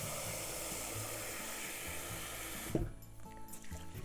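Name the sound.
water poured into bowl to rinse rice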